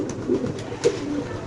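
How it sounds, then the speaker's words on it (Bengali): Blue bar fancy pigeons give a couple of short, soft coos close by over a low steady background murmur. "মাশাআল্লাহ ব্লুবার শৌকিং কবুতর আপনি দেখতে পাচ্ছেন অলরেডি"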